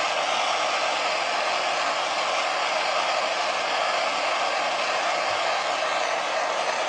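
A MAP gas torch roars in a steady, loud, continuous hiss while heating a zirconium spinning top, with no talk.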